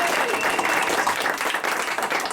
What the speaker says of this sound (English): How about a clap for Donna?